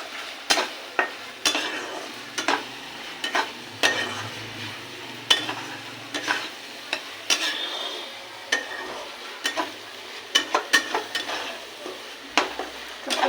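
Eggplant for begun bhog sautéing in oil in a pan, a steady sizzle broken by frequent sharp clicks and scrapes of a spatula against the pan, close and without talk.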